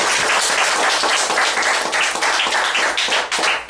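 Sustained audience applause at a CSEC 2013 graduation ceremony for the valedictorian, dense steady clapping from a crowd, loud and continuous without speech.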